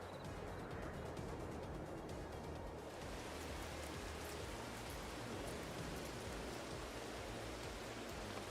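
Steady rain falls on a farm in Farming Simulator 22, a dense, even hiss of drops that stays constant throughout with no voices.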